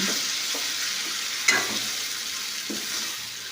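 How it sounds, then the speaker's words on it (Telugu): A spoon stirs raw mango dal in a pan, giving a few soft scraping strokes over a steady sizzle, with one sharper clink partway through and no talking. "ఇలా బాగా కలుపుకోండి"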